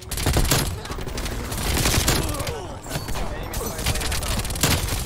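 A silenced MAC-10 fires rapid bursts in the video game Black Ops Cold War, loud dense clattering volleys that run almost without pause, with a voice talking briefly in between.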